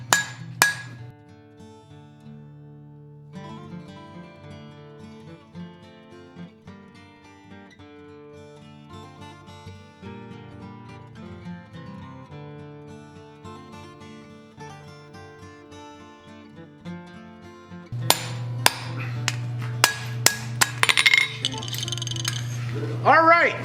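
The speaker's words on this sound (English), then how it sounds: "Copper feels so much different under the hammer." Soft copper sheet being hammered into the shape of a mask, with metallic taps that become a dense burst of sharp clinks near the end, heard over steady tonal background music.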